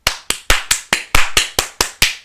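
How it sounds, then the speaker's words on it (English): Ten sharp hand claps in a fairly steady rhythm, close and loud with nothing else heard. "I'm gonna clap for you on that."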